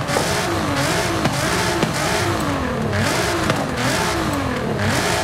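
A Nissan GT-R R35 Nismo in Forza Horizon 5 revs its exhaust continuously, engine pitch swinging up and down in repeated rising sweeps, loud and close with no talk over it.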